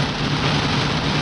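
Heavy summer rain pouring down during stormy weather, a dense continuous broadband hiss with a low rumble underneath, steady and close with no voices.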